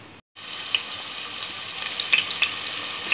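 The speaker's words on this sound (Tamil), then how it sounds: "இப்போ நான் இதில் வெங்காயம் சேர்த்துருக்கேன்" Onions frying in oil with mustard seeds in a cooker for vegetable kurma, a steady, close, bright sizzle with small pops, after a brief silence at the start.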